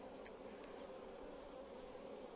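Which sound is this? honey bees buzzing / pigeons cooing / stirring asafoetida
honey bees buzzing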